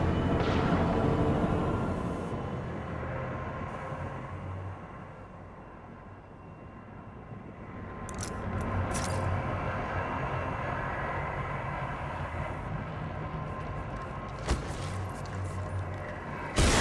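The train in the Apex Legends Winter Express mode pulls away with a continuous rolling rumble and mechanical clatter, fading slightly then building again, with a few sharp clanks near the end.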